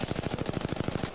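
Rapid automatic gunfire in Apex Legends, about a dozen evenly spaced loud shots in a fast steady burst.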